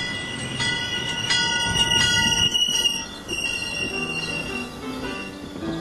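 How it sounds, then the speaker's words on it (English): A train rolls past the walkway at Washington Grove, loud and close, with rumbling wheels, rattling cars and shrill metallic wheel squeals rising and falling throughout. "and there's the train."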